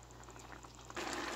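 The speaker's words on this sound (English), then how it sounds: "So my pot there bubbling up" A cooking pot of water for corn on the cob bubbles on the stove, first a soft scattered simmer and then a sudden, steady rolling boil, fairly quiet and close, with no talk.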